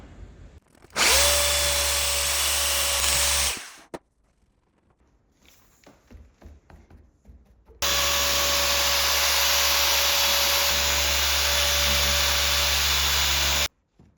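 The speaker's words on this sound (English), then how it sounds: "might have to get the machine polisher on that" Machine polisher buffing the thick paint protection film on a Ferrari 296, two loud sustained electric whirring runs close by, the second with a higher whine, separated by a quieter gap of handling noises.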